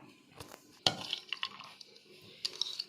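Chopped vegetables, including cucumber cut in small kachumber pieces, tipped into a big mixing bowl for a vinegar pickle, with a sharp clatter and scattered clinks and scrapes of pieces landing, close up and with no talking.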